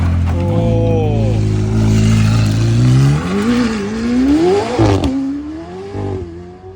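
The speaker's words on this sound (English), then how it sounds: "a 918 is driving by while we're filming that" A Porsche 918 supercar at Monterey Car Week passes close by, its engine note rising and falling through a loud, continuous drive-by with a shifting pitch sweep.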